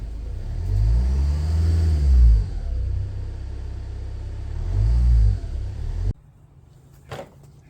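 A Jaguar XF with a battery that will not charge is revved, its engine rumbling low and close, swelling twice in rising and falling revs before cutting off abruptly, followed by quiet and a faint click.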